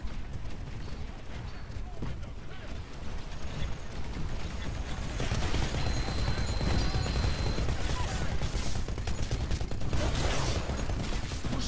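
Dense, rapid gunfire rattles almost without a break during a Titanfall multiplayer match on the Angel City map, with mechanical clatter mixed in. It grows louder and fuller partway through, and a voice is faintly present.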